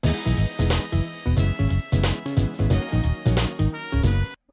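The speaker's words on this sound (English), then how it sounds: "all I need to do is pitch down the drums by pitch, and bam, now we have an instantaneous key change." A chiptune-style BeepBox song loops with punchy pitched-down drums under bright synth tones, its key shifting abruptly mid-phrase; steady and fairly loud throughout.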